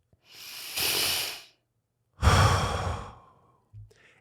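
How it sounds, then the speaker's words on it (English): Two long, deep breaths, a slow airy inhale followed after a pause by a heavier, louder exhale, close and clear with nothing else around. "Take a deep breath."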